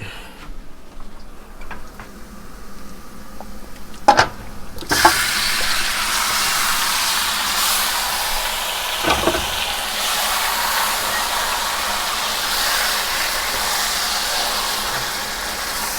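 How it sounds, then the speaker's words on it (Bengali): Chicken pieces dropped into hot oil with browned onions for a village-style chicken biryani, a steady bright sizzle spreading after a couple of sharp clanks and continuing evenly, close and moderately loud. "আমি এখন চিকেন ছেড়ে দেব।"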